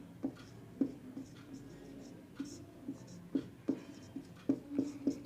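Writing on a board during a physics lesson on physical quantities and units, heard as a close, rhythmic series of taps and short scratching strokes, quiet and alone with no talking.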